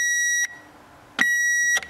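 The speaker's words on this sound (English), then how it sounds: "Now I'm gonna go ahead and turn on the alarm." A Power Probe circuit tester's alarm, tested on an old-style fuse, gives two sustained, loud electronic beeps separated by a short silent gap, close and clear.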